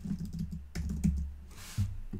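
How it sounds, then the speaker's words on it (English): Someone types on a computer keyboard at close range, a quick run of soft key clicks broken by short pauses, with no voices. "let's go ahead and start typing in here"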